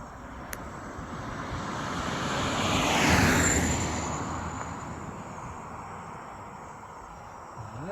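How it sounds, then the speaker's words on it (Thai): An X-Fly 40mm Twinliner Arbus RC model airplane with a 1100 mm wingspan coming in to land, its electric ducted fans whining as it approaches, swelling to a peak mid-pass and then fading over steady outdoor wind. "ขอเครื่องบินลงนะครับ"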